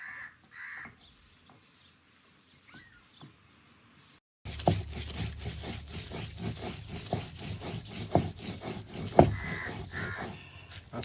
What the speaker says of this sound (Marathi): असा मस्त पाट्यावर मसाला वाटला ना घरगुती पद्धतीने, भारी वाटतं.